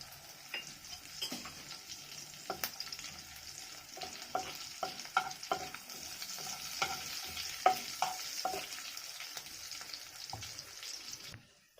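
Whole cumin seeds frying in hot oil in a pan while cooking a mixed-lentil dal, a steady close sizzle with scattered crackling pops and stirring clicks throughout, with no talk.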